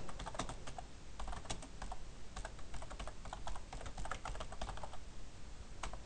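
JavaFX code is typed on a computer keyboard in a rapid, continuous patter of close key clicks, with no talking.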